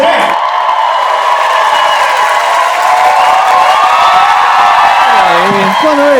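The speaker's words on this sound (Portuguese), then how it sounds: "Uma salva de palmas para ele, André!" A loud crowd at a live stand-up comedy show bursts into sustained applause, cheers and whoops for a comedian, with the roar holding steady for several seconds.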